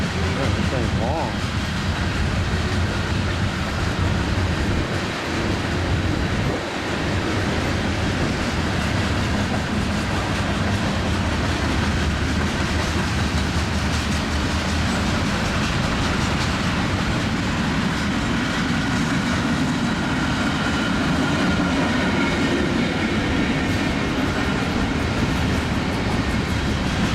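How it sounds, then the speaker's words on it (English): An eastbound Union Pacific mixed freight train rolls steadily past at Mechanicsville, Iowa, its cars keeping up a loud, continuous rumble and clatter close by for the whole span, with a faint mention of a green covered hopper among the consist. "Eastbound mixed freight, Mechanicsville, Iowa."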